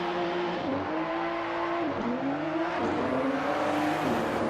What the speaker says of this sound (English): All of them revving their engines.